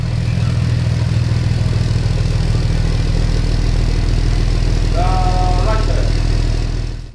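A Jeep engine idles steadily and loudly up close as it backs onto a lift, a constant low rumble throughout with a short high whine near the end.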